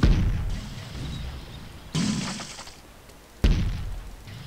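Cannon fire in the Galleons video game: three separate booming shots with sharp attacks, each followed by a fading rumble, spaced a second or two apart.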